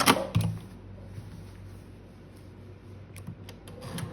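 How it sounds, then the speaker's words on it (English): A sewing machine stitching quilt binding strips together on the diagonal, a low steady mechanical hum with a few clicks and clatters near the start and end, close and moderately loud. "I am just going to sew on the diagonal,"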